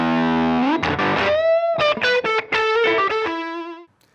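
Electric guitar on single-coil pickups played through a Fuzz Face Mini fuzz pedal, a few loud, heavily distorted sustained chords and bent notes ringing out, then a held note fading to silence.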